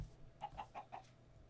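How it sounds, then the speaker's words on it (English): Four quick clucks from a chicken in the TerraFirmaCraft Minecraft mod, evenly spaced and fairly close, over a low steady background hum with no talking. "Oh, there's a chicken."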